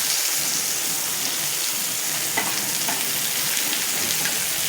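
A chicken steak fries in a pan with a steady, loud sizzle and crackle that runs the whole time, with no voices over it.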